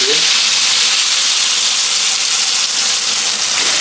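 Sundanese pindang tilapia fish goes into hot oil and fries with a loud, dense, continuous sizzling hiss that fills the whole stretch at close range.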